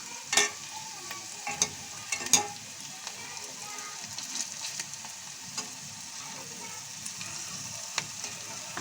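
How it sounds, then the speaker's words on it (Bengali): Coriander leaf pakoras frying in oil and being gently turned, a soft continuous sizzle broken by scattered crackles and occasional louder pops, fairly quiet and heard without talk. "ধনিয়া পাতার বড়া বা পাকোড়াগুলো আমি এভাবে ভালোভাবে ভেজে নেব।"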